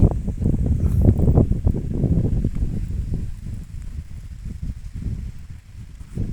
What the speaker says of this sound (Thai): บรรยากาศป่าอ้อย